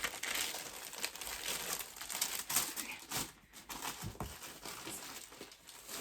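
Cross-stitch kit packaging crinkles and rustles close by as it is handled, with irregular crackling bursts and a brief pause midway.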